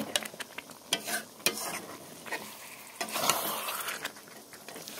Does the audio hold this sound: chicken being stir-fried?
yes